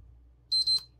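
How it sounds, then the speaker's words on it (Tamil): A PlayStation 3 console emits two quick high-pitched electronic beeps back to back, clear and steady against a quiet background hum. "மூணு பீப் கேட்டிருக்கு சவுண்டு நமக்கு"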